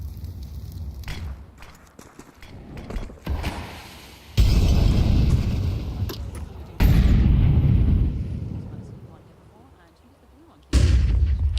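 Grenade blasts and gunfire in a Counter-Strike match, with several loud booming bursts at intervals among shots and footsteps, a commentator talking over the action.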